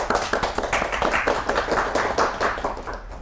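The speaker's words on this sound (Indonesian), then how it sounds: "Oke, tepuk tangan untuk kita semua." Classroom students clapping together for themselves, a quick, fairly close patter of hand claps forming an uneven rhythm that runs steadily throughout with no talking.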